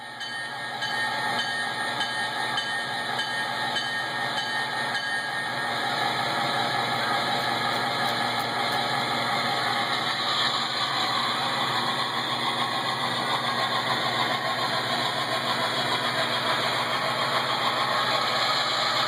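A model train locomotive plays a Union Pacific diesel engine sound, a steady idling rumble with a mechanical whine, moderately loud and continuous, with no talking.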